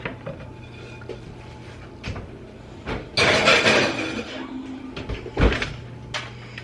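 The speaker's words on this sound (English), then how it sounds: "Just gonna put these in the oven to bake." Baking dishes go into a kitchen oven, with scattered clanks of cookware and a door or rack banging against a low background hum, loudest in a burst midway, no talking.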